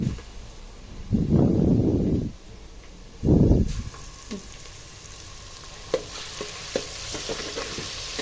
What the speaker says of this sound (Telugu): ఈ అల్లం పేస్ట్ అంతా ఫ్రై కావాలి, లేకపోతే మాడవరా అల్లం వాసన వస్తుంది.